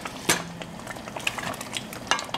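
Tomato and herb pasta sauce boils in a pot as it reduces, giving soft bubbling and popping with a few sharper sputters, close up and without talk.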